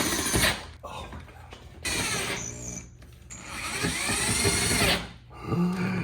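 A power drill whines and grinds in loud bursts with brief pauses, straining as it bites through the metal body of a new Dodge Charger, up close.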